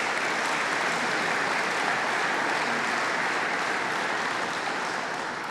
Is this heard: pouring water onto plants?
no